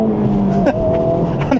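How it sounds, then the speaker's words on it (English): Honda Civic Type R FL5 engine blipping on an automatic rev-match downshift, a loud, close rise in revs that settles into a steady drone, with a brief spoken word partway through. "Auto rev match downshift"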